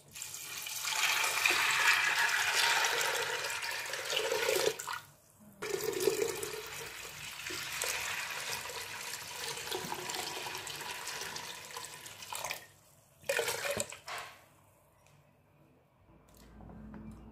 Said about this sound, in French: Je rajoute de l'eau.